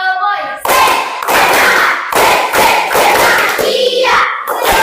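A group of people, seemingly children and young participants at an ice-breaking session, claps hands in a rhythmic pattern of loud, sharp bursts with short gaps and some voices mixed in.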